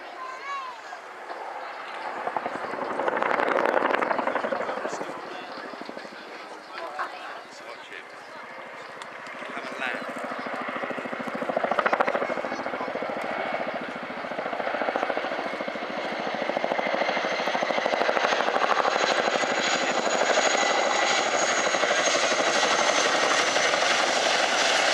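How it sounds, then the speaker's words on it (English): A tandem-rotor Chinook helicopter from a display team lands at the Dunsfold Wheels show, its rotor roar and turbine whine swelling and fading as it descends, with a voice talking over the noise. "Due to the Chinook being a tandem rotor aircraft, it can actually land similar to a fixed wing"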